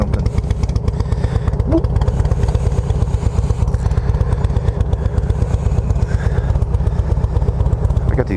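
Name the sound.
Harley-Davidson Road King motorcycle exhaust noise while riding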